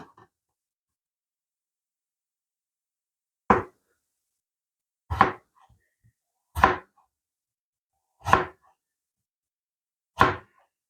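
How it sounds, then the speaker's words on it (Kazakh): Potatoes being cut with a knife on a board: five sharp, separate chops at a slow, even pace, close and clear with quiet pauses between and no talking. "Енді картопты да туры солай турап аламыз."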